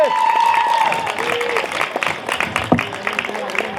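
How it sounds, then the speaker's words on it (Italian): Crowd at an outdoor summer festival concert for the Festa di San Rocco in San Pier Niceto claps and cheers, a dense ongoing applause with some shouts mixed in, fairly loud and close. "Un applauso, vai, più forte,"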